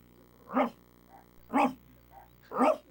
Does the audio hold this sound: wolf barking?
yes